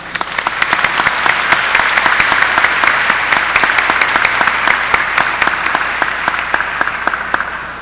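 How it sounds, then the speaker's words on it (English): Crowd at a high school graduation ceremony applauding families and school members, loud sustained clapping from many people with sharp individual claps standing out, continuous throughout without talk. "So please join me in a round of applause for all of these very special members of our school family."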